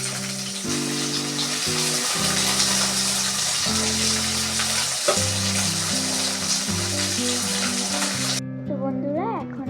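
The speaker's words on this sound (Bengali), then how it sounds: "কড়ার মধ্যে তেল দিয়ে দেব, সবজিগুলো সব একটু একটু করে ভেজে নেব" Vegetables and beans fry in hot oil in a wok, a loud continuous sizzle with stirring throughout, under steady background music.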